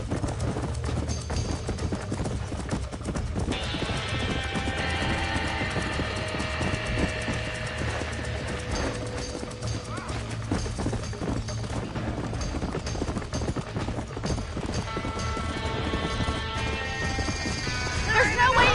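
Horses trapped in a burning barn in the video game Red Dead Redemption, with clattering hooves, crashing and whinnies heard under frantic shouting voices, all sustained and busy throughout.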